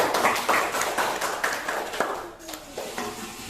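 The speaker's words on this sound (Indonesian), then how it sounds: "Iya, tepuk tangan dulu." A group claps hands in brisk, overlapping applause, close and fairly loud, with some voices mixed in.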